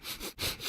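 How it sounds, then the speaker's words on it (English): A single sharp sniff through the nose, loud and close, with a short break midway and no talking, heard in a Downy Unstoppables laundry scent ad. "And now a sniff solo."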